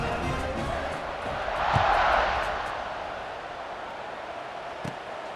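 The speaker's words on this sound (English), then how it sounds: "this crowd now ready to get behind them" Video game stadium crowd in EA Sports College Football 26 before a kickoff, a broad crowd roar that swells to a cheer in the middle and then settles back to a steady murmur.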